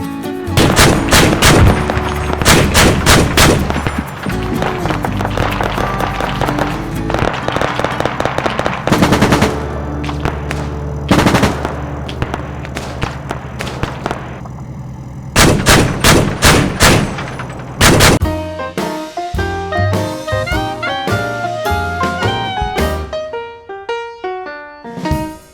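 Bursts of heavy automatic fire from a 12.7mm remote-controlled machine gun on a VCR 8x8 Dragon armoured vehicle in the game ARMA 3, loud and close, in repeated rapid volleys with short gaps, ending in scattered booming shots.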